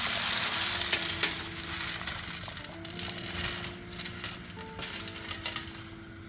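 Vegetables sizzle steadily in a hot pan, a constant crackling hiss with occasional clinks and scrapes of stirring.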